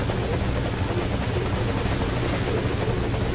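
Helicopter in the video game Metal Gear Solid V: Ground Zeroes, a loud, steady rotor drone with a dense, continuous beating roar that fills the whole moment without pause.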